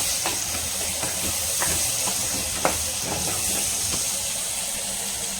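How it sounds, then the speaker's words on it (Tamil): Chopped tomato sautéing in a pan for a village-style mango fish curry, giving a steady hiss of frying and steam with a few light stirring clicks and scrapes, close and constant throughout. "தக்காளி நல்லா வதங்கட்டும்."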